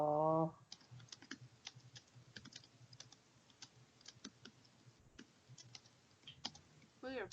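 Typing on a computer keyboard: quick, uneven clicking keystrokes, fairly faint and close, running through the whole stretch between brief voices at the start and end.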